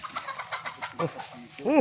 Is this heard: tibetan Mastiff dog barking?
no